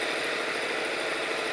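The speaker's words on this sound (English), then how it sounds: "So we're gonna rev it up." Visible V8 model engine held at a steady high rev, around 6300 RPM, as a loud, dense, buzzing mechanical drone that stays constant throughout.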